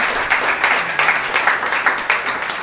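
Church congregation at a Sunday service clapping together in a steady, dense burst of applause with rhythmic peaks, fairly close and continuous throughout.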